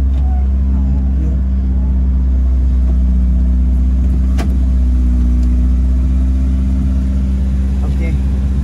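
A 1991 BMW E30 with the M40 engine cruises on a toll road, a steady low engine drone and road rumble filling the cabin while someone talks over it.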